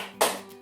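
An elementary class claps once in a short, sharp burst of hands together, a single clap standing out in a quiet room.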